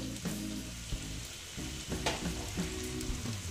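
Tomato added to hot oil while cooking a Bengali chital fish curry, a loud sizzle rising and falling in quick bursts over a low tonal hum, with no speech.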